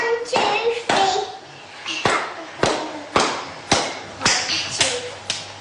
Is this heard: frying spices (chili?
no